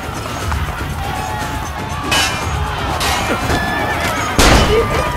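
A war horse whinnies in the video game Assassin's Creed Brotherhood, its neighs rising over a steady din of crowd noise and ambient game sound, with loud bursts standing out.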